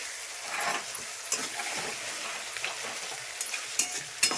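Spice paste of ground chili and cumin powder fries in oil with a steady, close sizzle, punctuated by a few soft spatula scrapes and light taps.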